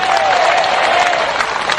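A crowd at an outdoor religious gathering in a field claps in dense, loud, sustained applause, steady throughout the short burst.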